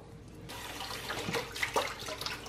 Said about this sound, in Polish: przepłuczemy jeszcze